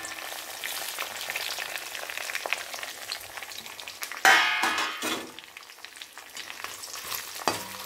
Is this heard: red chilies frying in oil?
yes